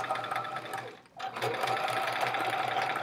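A sewing machine stitches a chevron quilt in a steady, close, rapid whir, pausing for a moment before running on, while someone talks over it.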